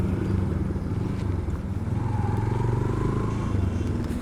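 Steady low engine drone from a motorcycle ridden along a road, continuous and fairly close, with a rattling clatter over it and no voices.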